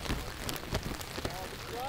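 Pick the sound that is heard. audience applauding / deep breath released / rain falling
rain falling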